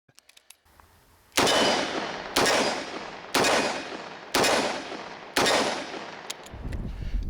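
A revolver fires Remington .38 Special +P ammunition, five loud close shots spaced about a second apart, each with a short ringing decay, preceded by faint clicks.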